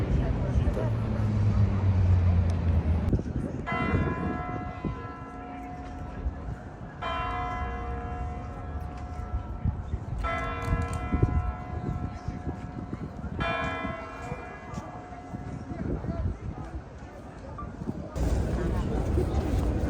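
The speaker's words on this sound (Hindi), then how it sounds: "तो अभी पीछे क्लॉक टावर में घंटियाँ बज रही हैं" The Kremlin clock tower on Red Square rings its bells in the evening, chiming in long resonant peals separated by pauses, over open-air crowd murmur and traffic.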